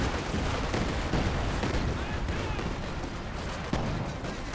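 Artillery barrage in the Company of Heroes 2 strategy game, a dense, continuous wash of booming impacts and gunfire rumbling steadily throughout, with a sharper crack near the end and no talk.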